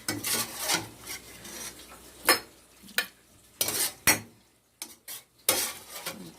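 Cooked pasta being spooned into a lasagna dish, giving a series of soft wet scrapes and clinks of a utensil against the dish, irregular bursts close to the microphone with no talk.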